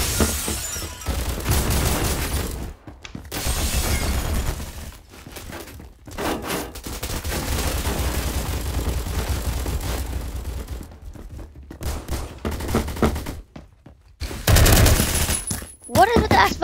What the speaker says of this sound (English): This thing is like a legit machine pistol. Not even a machine pistol, it's a machine gun.